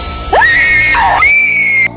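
A woman's loud, piercing scream of fright as a sound effect in a spoken horror tale, a rising shriek that swells and holds high for over a second before cutting off abruptly.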